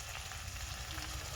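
A tempering for pachi pulusu fries in a pan, giving a steady, faint hiss and sizzle that carries on with no talking.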